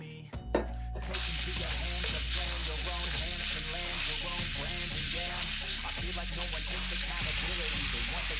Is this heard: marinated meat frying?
yes